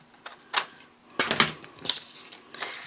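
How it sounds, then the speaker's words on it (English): Scissors snip through a paper sewing pattern in a few separate crisp cuts, close and fairly quiet, with pauses between strokes. "so I'm just going to cut this out."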